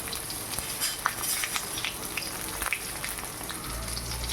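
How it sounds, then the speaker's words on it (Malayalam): Onion, ginger and green chilli sauté in hot oil, giving a steady close sizzle with small crackles and occasional stirring scrapes, and no voices. "നമ്മൾ ഉള്ളി താളിക്കുകയാണ്. ഉള്ളി, ഇഞ്ചി, പച്ചമുളക്."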